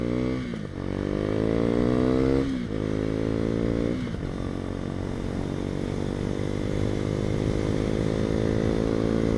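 A 2019 Husqvarna Vitpilen 401 single-cylinder motorcycle revs up through several gear changes with rising whines that drop at each shift, then holds a steady, droning engine note while riding.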